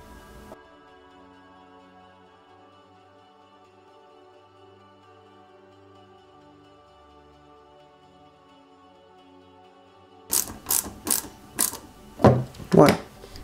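Small screws are driven into the chassis of a Porsche 917KH scale model. After a quiet stretch, a short series of close, crisp ratcheting clicks and scrapes comes near the end.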